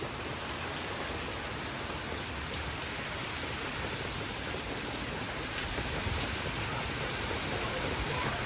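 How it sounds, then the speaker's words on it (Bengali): Steady, dense monsoon rain from Cyclone Remal pouring down without pause in the dark, a continuous heavy hiss of water hitting surfaces, loud and unbroken throughout. "বাইরে প্রচণ্ড মুসুলধারায় বৃষ্টি হচ্ছে"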